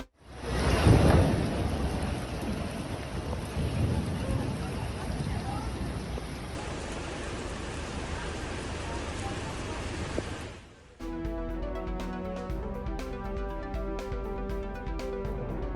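Heavy rain pours down during flooding in Colombia, a dense, steady roar with rumbling thunder early on. The sound then cuts to a musical news jingle.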